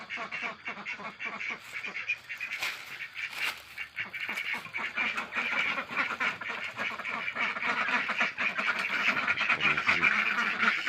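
A flock of laying ducks quacks continuously, many nasal calls overlapping in a busy, steady chorus close by.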